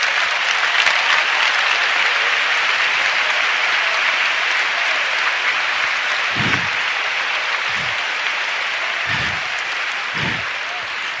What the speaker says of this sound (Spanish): Aplaudo ya al Señor una vez más.